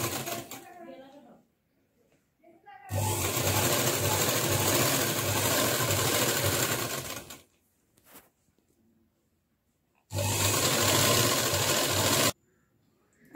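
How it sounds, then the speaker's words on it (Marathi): An electric sewing machine stitches a fabric strip for a frock, running in two loud, steady bursts of rapid mechanical chatter close by. Quiet pauses separate the bursts, and a faint voice is heard between them. "आपण अगदी 1/2 इंचावरून टिप मारून घेत आहोत"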